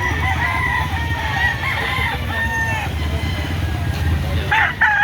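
Roosters crow repeatedly at an outdoor chicken market behind SM Lipa City, Batangas, with overlapping calls and clucking over a steady murmur of crowd noise and talk.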